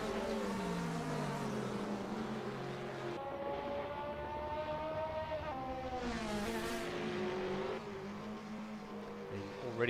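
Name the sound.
race car driven hard through a corner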